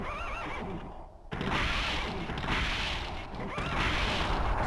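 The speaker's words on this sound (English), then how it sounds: "Some sort of beast horse?" A horse neighs in the video game Legend of Dragoon, a loud wavering whinny up front followed by noisy rushing, crashing game sounds that continue steadily to the end.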